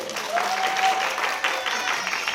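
Audience at a family ensemble concert of Peter and the Wolf applauding: brief, steady clapping from a crowd with a faint lingering musical tone beneath it.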